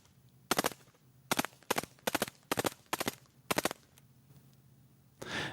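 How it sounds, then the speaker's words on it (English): An MP5 submachine gun fires six sharp, loud bursts of rapid shots, each lasting a fraction of a second, with short pauses between them, then goes quiet. "This is an actual MP5."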